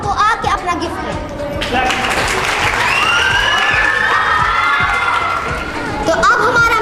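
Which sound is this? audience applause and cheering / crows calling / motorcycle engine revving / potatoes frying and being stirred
audience applause and cheering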